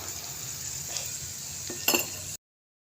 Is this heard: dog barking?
no